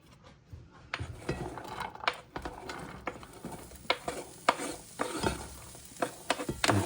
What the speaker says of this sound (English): you can hear they're already starting to sizzle